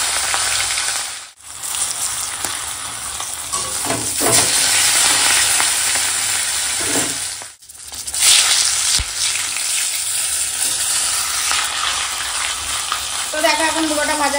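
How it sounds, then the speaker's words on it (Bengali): A rohu fish head, rubbed with salt and turmeric, fries in hot oil in a home kitchen. It makes loud, continuous sizzling and spattering with two brief drops in level, and there is no speech. "আর এখন মাছের মাথাটা ভেজে নেব।"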